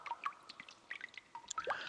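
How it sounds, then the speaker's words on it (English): Water dripping from cracked walls as game ambience in the Umineko visual novel, scattered faint plinking drops at irregular intervals, quiet and echoey. "There were cracks in the ceiling, and water clung to the walls,"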